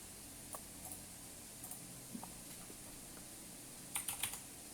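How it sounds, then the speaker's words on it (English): Keystrokes on a computer keyboard come as faint, sparse taps with a brief quick flurry near the end, in a quiet room without speech. "we will be typing the word end"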